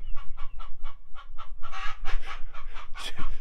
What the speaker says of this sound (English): Chicken's having a hard time with an egg.